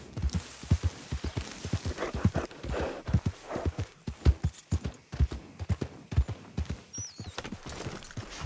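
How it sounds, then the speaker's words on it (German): A horse clip-clops along in the video game Red Dead Redemption 2, a steady rhythmic beat of hooves over a low ambient game background, with a brief whinny-like sound near the end. "Da kippt das Pferd wieder um."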